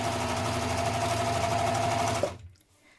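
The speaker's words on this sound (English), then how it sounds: "Now stitch around the edge of your flounce." Sewing machine stitching around the edge of a flounce for a New Look 6560 spring blouse: steady, close mechanical whirring for about two seconds, then stopping abruptly.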